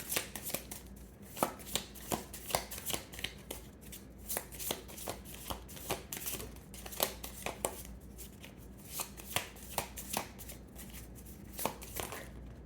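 A deck of tarot cards is shuffled over and over, giving quick crisp riffling bursts in an irregular rhythm, close and fairly quiet, with no voices.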